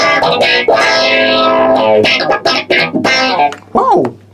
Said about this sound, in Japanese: オートワウですね。